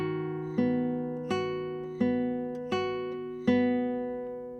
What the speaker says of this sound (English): we pluck with the middle finger and followed by the index. So that sounds like this